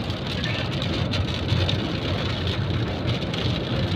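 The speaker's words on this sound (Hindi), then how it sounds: "बारिश बहुत तेज हो रही है" Heavy rain pounds steadily on a car windshield, a dense, continuous roar of drops with no pauses. It sounds loud and close, with no voices.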